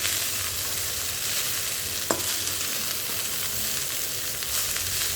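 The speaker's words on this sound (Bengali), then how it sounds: "এবার এটাকে নাড়াচাড়া করে ভালো করে মিক্স করে নিতে হবে, যাতে ভাতটা আরেকটু ঝুরঝুরে হয়" Leftover rice fried with potato and egg, stirred in a pan under a constant loud sizzle, with a scraping spoon and one sharp clink against the pan partway through.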